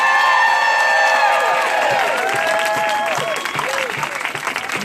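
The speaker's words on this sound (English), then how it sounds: "So let's give them a round of applause." A crowd at a women's march in Norfolk, Virginia applauds and cheers loudly, with whoops and high shouts over dense clapping that slowly thins out.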